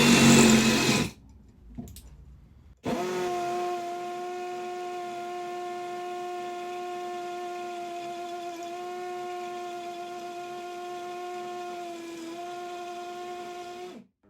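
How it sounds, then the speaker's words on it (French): Ryobi One+ HP RPD18C hammer drill boring with a 10 mm bit: after a short burst and pause, a steady, loud, high whining drone holds for about eleven seconds with slight pitch dips, close by, with no talk. "Je la laisse travailler, je laisse la mèche travailler."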